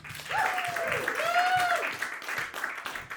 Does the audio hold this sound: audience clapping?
yes